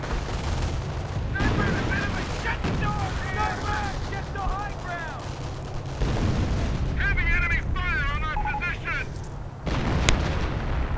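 Artillery and gunfire crackle through a strategy video game battle, with repeated booms and bursts under an excited commentator talking almost throughout. Whistling, warbling game effects rise in the middle.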